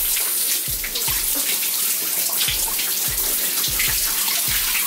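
Water pours steadily from a shower or bath tap as shampoo is rinsed from hair, a constant close splashing rush with soft irregular thumps of water hitting the head and body.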